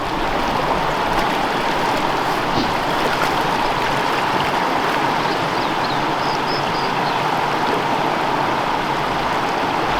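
Small Colorado brown trout creek flowing in a steady, close, broadband rush of water that stays constant throughout without any talk.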